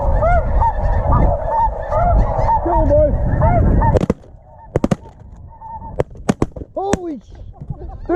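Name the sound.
snow geese honking in flight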